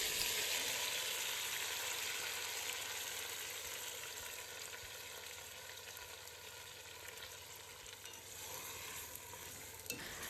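Marinated mutton fries in hot oil with coriander for a Chettinad-style salna, giving a close, steady sizzle with stirring scrapes and a sharp click near the end, alone without talk.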